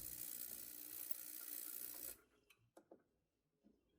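Watch cleaning machine running with cleaning fluid, a loud steady whirring hiss that cuts off abruptly halfway, followed by a few faint clicks and knocks in near silence.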